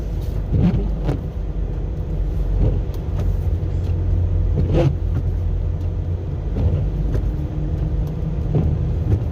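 A truck creeps down steep hills at about 15 miles an hour during a winter storm, its engine a constant low rumble heard from inside the cab, with occasional soft thumps and no talking.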